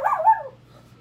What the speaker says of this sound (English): Don't get Yorkie. They bark all the time.